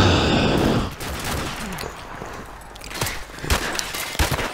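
Bursts of gunfire ring out in a Modern Warfare Remastered gun game match, beginning with a dense rattle and then giving way to scattered single shots and short volleys over game background noise.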